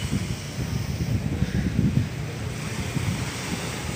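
Rough autumn sea surf rolling in along a shore, a continuous heavy wash of waves with wind noise buffeting the microphone, steady and fairly close, with no voices.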